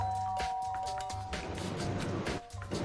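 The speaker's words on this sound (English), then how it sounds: "I pressed the doorbell." A doorbell chimes in the video game Danganronpa, its tone ringing over game background music with no talking.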